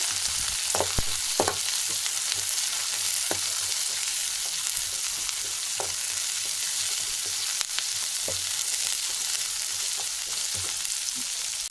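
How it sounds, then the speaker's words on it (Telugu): Garlic and dry ginger frying in oil as the base for mutton sambar: a continuous bright sizzle with occasional small pops and spatter ticks, steady and close, no voices. "తెల్లగడ్డలు, కొంచెం శొంఠి వేసి ఫ్రై చేసుకుంటాము."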